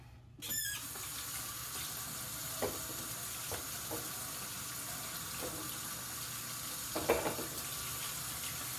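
Hands washed under a running faucet at a kitchen sink, a steady low rush of water with a few soft splashes and clinks, faint and continuous with no voices.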